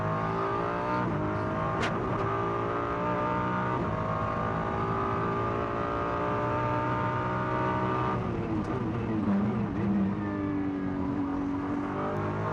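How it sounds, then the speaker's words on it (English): A GT race car at the Macau Grand Prix pulls away from the tight first-gear Macau hairpin, its engine note climbing steadily and loudly through the revs with sustained acceleration over about twelve seconds, no voices present. "First gear for the Macau hairpin, and then as soon as he dares, back foot nailed to the floor."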